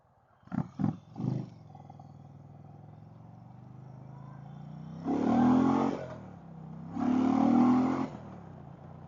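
An Indian motorcycle pulls onto the road: three quick throttle blips, then two long, loud engine revs that swell and fade, heard close with no talking.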